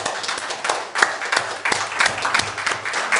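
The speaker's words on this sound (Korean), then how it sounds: "같이 박수로 환영합시다" A church congregation breaks into steady, dense applause of welcome, many hands clapping close and full, with a few sharper individual claps standing out.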